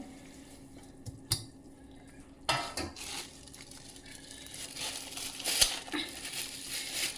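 A spoon stirs flaxseed and gram flour roasting in a pan, giving soft scraping and rustling over a steady low hiss, with a few sharper knocks against the pan.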